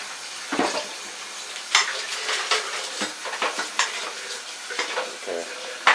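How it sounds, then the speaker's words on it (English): Red snapper fries in a pan, giving a bright, crackling sizzle with repeated bursts of spattering and stirring, plus occasional clinks of a utensil against the pan. "we're going to be frying the red snapper."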